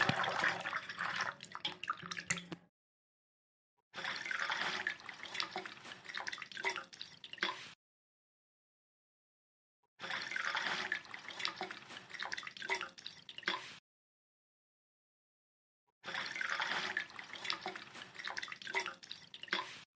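Running water splashes during washing in four separate bursts of a few seconds each, with full silences between them and no talk.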